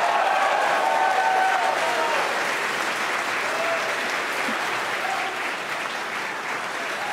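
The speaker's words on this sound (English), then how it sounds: "by the cheers in the crowd behind me" A crowd watching a rocket launch breaks into steady applause and cheering at the second engine start, a dense continuous wash of clapping that fades gradually, with a voice speaking over it.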